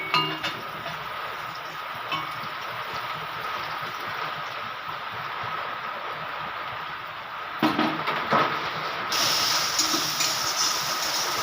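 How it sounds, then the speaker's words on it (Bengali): Stale roti topped with beaten egg and salt fries in a hot pan, giving a steady close sizzle and hiss throughout, with a few faint clinks near the end. "দেখুন বন্ধুরা, এরকম করে ভেজে নিতে হবে"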